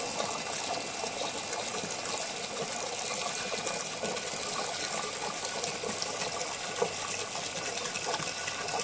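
Water gushes from a pump running on a 610-watt solar panel under cloudy skies, making a steady, dense rushing splash that stays loud and close without pause, with no voices.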